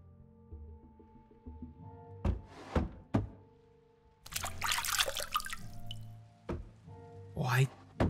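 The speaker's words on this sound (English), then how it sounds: "why the water sound" Water dripping and pouring in the adventure game Dr Livingstone, I Presume?, with thunky drips and a longer splashing pour in the middle under a woman's speech and game music.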